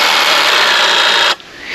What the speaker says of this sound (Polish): To jest piła, która tnie po prostu tak.